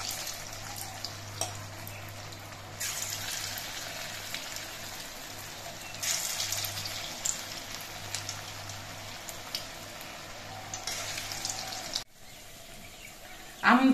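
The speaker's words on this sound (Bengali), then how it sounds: "বাকি পকোড়াগুলো আমি একইভাবে ভেজে নিচ্ছি।" Radish pakoras deep frying in hot oil give a steady, faint bubbling sizzle with scattered crackles, continuous and close, ending in a brief louder clatter.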